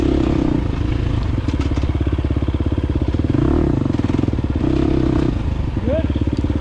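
A 2023 KTM 350 XC-F dirt bike in first gear on a scramble course, a close, loud, steady four-stroke engine drone with rhythmic revving and throttle swells.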